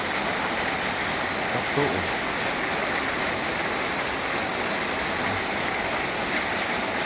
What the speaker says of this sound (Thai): ฝนตกจะได้ยินก็บอกเนาะ